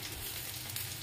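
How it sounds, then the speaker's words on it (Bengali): Bottle gourd kofta coated in gram flour with green chilli, cumin and coriander powder, shallow-frying in a little oil, giving a steady close crackling sizzle with no talking. "বেসন দিয়ে কাঁচা লঙ্কা, জিরে গুঁড়ো, ধনে গুঁড়ো, সব দিয়ে মেখে প্রথমে কম তেলে এরকম করে সেঁকে নিতে হবে"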